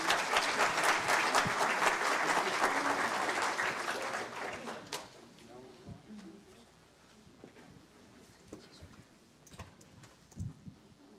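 Concert audience applause welcoming the performers, loud sustained clapping that fades after about five seconds into scattered claps and soft hall noise, with a voice speaking briefly.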